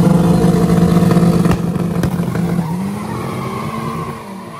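Cars in an illegal street drag race: loud, close engine roar with tire squeal, accelerating hard and then fading away into the distance, with no voices.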